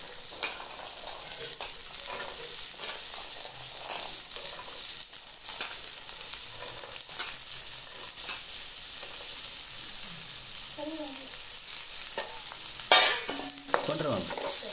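Peas, beans and potatoes frying in hot oil in a home kitchen, a continuous soft sizzle with scraping stirs and clinks of a utensil against the pan.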